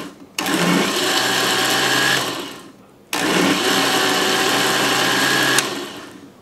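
A blender pulses a Korean bulgogi marinade for short ribs with sliced scallions in two loud, whirring bursts of about two seconds each, separated by a brief pause.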